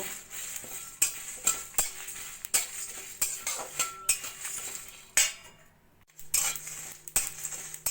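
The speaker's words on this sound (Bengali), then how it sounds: "এবার এই মশলাটাকে একটু হালকা করে ভেজে নেব" Coriander, cumin, fennel, cardamom, cinnamon and dried chillies being dry-roasted in a kadai, with a spatula scraping and clinking against the metal in a steady irregular rhythm. The stirring is close and moderately quiet, with no talking.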